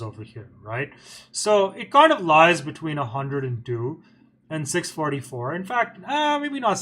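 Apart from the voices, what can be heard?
No everyday noise stands out behind the speech.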